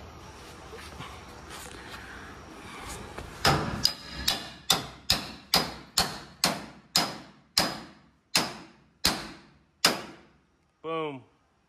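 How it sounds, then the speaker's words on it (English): Hammer blows strike metal bars on a welded Uncle Sam piece, about fourteen sharp ringing impacts in a steady, evenly spaced rhythm, close and loud, followed by a brief whistle-like tone. "It's a little bit of hammering and we'll be good."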